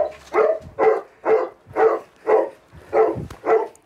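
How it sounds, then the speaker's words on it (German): A Golden Retriever police detection dog barks to signal a find, seven evenly spaced, loud, close barks in a steady rhythm with nothing else around them. "Max zeigt an, muss also so lange bellen, bis auch sein Herrchen vor Ort ist"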